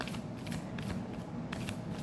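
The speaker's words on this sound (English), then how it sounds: "I'm gonna give it one more shuffle before I call it at end of the reading." Tarot cards riffle and flutter in a quick, soft shuffle, close by, with light papery bursts and no talking.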